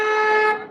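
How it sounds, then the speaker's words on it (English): A car horn honks loud and close in one steady toot of under a second, passing traffic at a street protest outside an immigration facility in Portland, Oregon. "We got a bunch of enthusiastic honkers today."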